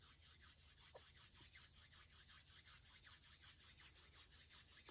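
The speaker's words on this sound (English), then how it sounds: "begin creating some friction between them as you rub your palms together" Two palms rubbed briskly together in front of the chest, a close, quiet rhythmic swishing with about five even strokes per second, steady throughout.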